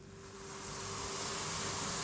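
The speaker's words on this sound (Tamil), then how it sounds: "டீ கொதிக்குதுங்களா டீ கொதிக்குது" A steady bubbling hiss of tea boiling in a pan, rising slightly in loudness and continuing without pause, with no voices.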